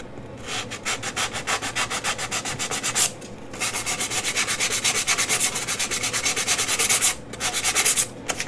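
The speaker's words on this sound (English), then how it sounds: "so I'm going to sand the top" Steady rhythmic rubbing of 220 grit sandpaper across a wooden box top, loud and close, in repeated back-and-forth strokes with brief pauses, no talking.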